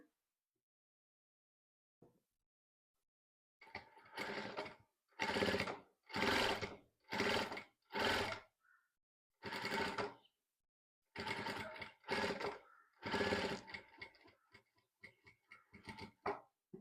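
A sewing machine stitches an invisible zip in several short runs of steady whirring, separated by brief pauses, close and moderately loud after a quiet start.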